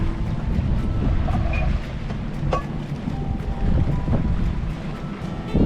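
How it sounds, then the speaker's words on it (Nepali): Cold wind blows steadily across an island shoreline near sailing boats, a constant loud rush buffeting the microphone, with faint clicks and water sounds beneath and no talking. "चिसो हावा चलिरहेको छ।"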